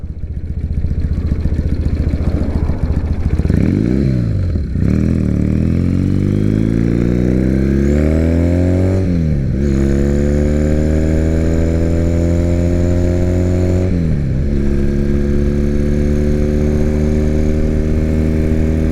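A 2006 Triumph Bonneville engine revs hard during a ride, loud and close, pitch climbing steadily through each gear before dropping at three distinct shifts, with a constant rumble underneath and no speech.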